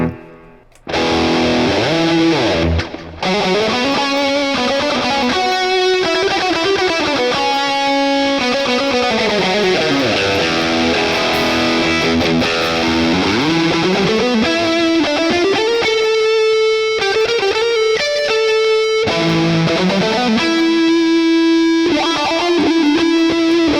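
A Solar T1.6C electric guitar plays distorted lead lines, sustained bending notes and fast runs with effects, loud and continuous with no one talking.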